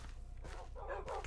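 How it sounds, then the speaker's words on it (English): Minecraft dogs bark in a short burst of yips and woofs, moderately loud and fairly close, over steady game background noise with no talk. "Come on, dogs."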